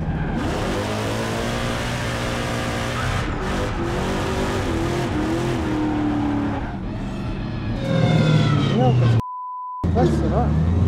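Methanol-fuelled race car engine sputtering and gurgling while driving on a track, a rough, uneven drone that rises and falls with revs, close and loud with voices talking over it and a brief dropout near the end.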